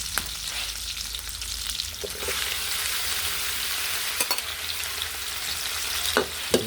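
Tomatoes sauté with ginger, garlic and onion in a hot pan for pakbet, giving a continuous loud sizzle with occasional sharp clanks of a spatula against the pan.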